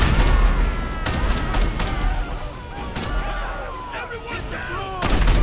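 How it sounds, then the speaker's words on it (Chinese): Bombing explosions in GTA5 boom and crackle in rapid succession, loud, dense and continuous, with rumbling blasts and whistling debris, while a voice shouts briefly over the barrage. "轰炸！"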